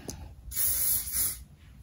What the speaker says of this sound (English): put some spray every now and then just to keep the curls